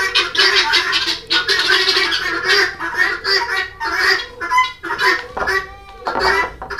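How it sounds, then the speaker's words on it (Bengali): Hens on a poultry farm raise a loud, continuous racket of squawking and honking calls while laying eggs, with overlapping cries from many birds very close by and no speech. "ডিম উড়ানোর সময় মুরগিগুলো অনেক চিল্লাফেলা করে"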